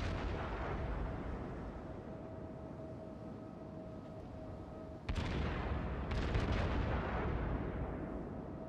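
Gunfire from the battleship Tirpitz in a naval video game: a sudden heavy boom about halfway through cuts into a steady rumbling background, followed by further sharp reports and rolling blast noise.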